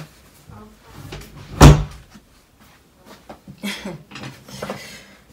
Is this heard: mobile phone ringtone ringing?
no